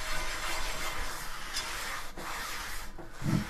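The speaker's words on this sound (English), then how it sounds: "I'm going to put a little soap in, take a scrub brush and work on it." A scrub brush with soap scours a cast iron pan in close, steady bristly rubbing strokes, moderately loud and continuous with no talking.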